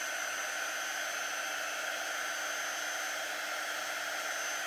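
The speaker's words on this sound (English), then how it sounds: "So I'm drying it." A hair dryer blows a steady, even whoosh at moderate distance while drying chalk paste letters, a continuous airflow hiss with no talk over it.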